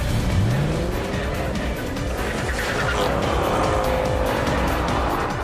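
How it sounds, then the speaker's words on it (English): Mercedes S-Class and BMW in a drag race, engines roaring as the cars launch, with tires squealing, revs rising through gear changes, and a steady loud rush of engine noise throughout. "So let's go back to the traditional Philistine top gear method. A drag race."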